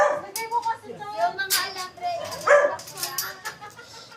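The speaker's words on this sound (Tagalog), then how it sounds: "Watch the dogs, watch the dogs." Dogs bark and yip excitedly nearby at a house door, with short repeated barks mixed with people talking over them.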